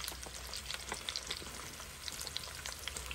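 Onions frying in a cooking pot for a potato boucané dish, a steady dense crackling sizzle with scattered sharp pops, close and continuous, no voices.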